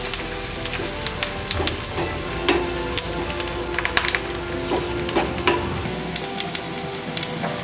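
Onions fry in oil for a chicken curry, browning in a pan with a loud, continuous sizzle broken by frequent sharp pops and crackles, heard alone without talking.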